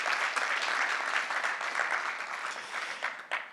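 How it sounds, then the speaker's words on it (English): Audience applause for conference organisers at a blockchain event, a steady wash of many hands clapping at moderate distance, holding evenly for a few seconds before thinning out. "I would actually like to just start with a round of applause for the organisers"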